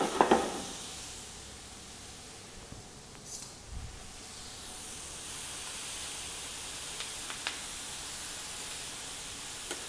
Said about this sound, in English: the way I'm pan frying greens